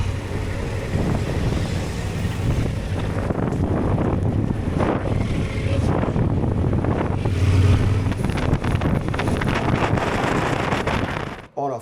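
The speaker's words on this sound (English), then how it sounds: "On a ferry ride" Steady wind and engine rumble aboard a ferry on the Alaskan Inland Waterway, a continuous loud rushing drone with buffeting wind noise that cuts off abruptly at the end.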